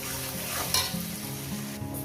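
Sliced onions fry in a pan of hot oil while being stirred, for a lote (Bombay duck) fish and eggplant chorchori. A steady, close sizzle carries on with occasional stirring scrapes and no voices.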